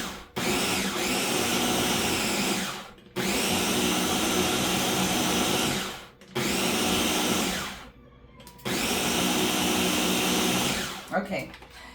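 An electric chopper whirs loudly as it chops onions for sofrito, running in four long bursts of about three seconds each, separated by brief pauses, close and steady.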